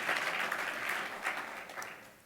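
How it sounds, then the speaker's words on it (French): An audience at a municipal debate applauds in a moderate burst of clapping that gradually thins and fades toward the end. "Vous pouvez applaudir."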